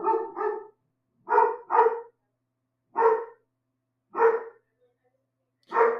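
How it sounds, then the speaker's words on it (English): A single dog barks close by in several sharp bursts, some doubled, with short silent gaps between them and no other sound. "Sorry guys, that is my dog."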